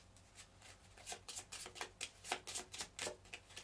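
Board game start cards being shuffled by hand, a quick run of soft riffling and flicking bursts in an uneven rhythm, close and quiet with no voices.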